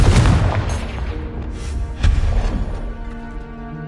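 A Confringo spell explodes in a Harry Potter video game with a heavy booming blast at the start and a second impact about halfway through, each rumbling and decaying away.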